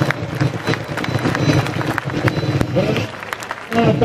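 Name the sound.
crowd applauding a parachutist's landing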